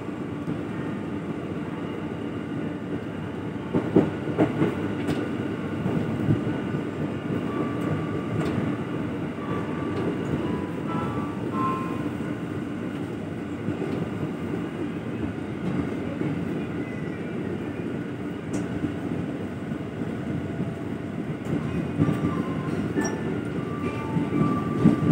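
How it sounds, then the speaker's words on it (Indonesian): KRL Commuter Line electric train near Bekasi station rolling along the rails as heard from inside the carriage, a steady low rumble with faint clacks and rattles throughout, no talking. "Ya, KRL-nya berjalan kembali."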